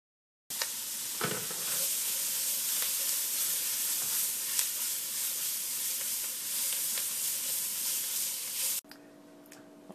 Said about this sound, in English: we're going to put in our vegetables and stir them around so that they're coated by the roux